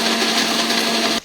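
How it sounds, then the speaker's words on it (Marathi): A kitchen mixer grinder grinds grated coconut, giving a loud, steady, close-up whirring drone that cuts off abruptly just before the end. "तो जाणार आता मिक्सरवर."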